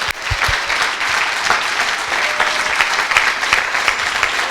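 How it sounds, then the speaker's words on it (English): Loud, full applause from an audience at a coding bootcamp demo day celebrates 22 graduates, a thick continuous roar of clapping with occasional low thumps, sustained at even volume throughout. "So I'd like to give a huge round of applause to these 22 amazing persons."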